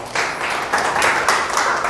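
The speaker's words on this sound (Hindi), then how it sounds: "तो मैं चाहूंगा ऐसे प्रोडक्ट के लिए बहुत जोरदार ताली होनी चाहिए दोस्त" Audience applause at a home business meeting, a steady wash of many hands clapping that swells after a short moment and carries on evenly for a couple of seconds.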